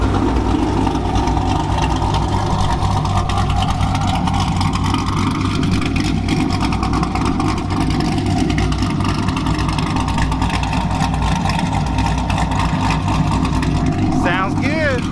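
Chevrolet Camaro engine running steadily after a test drive, a constant loud rumble throughout with no clear revving, close by and outdoors, with no talking over it.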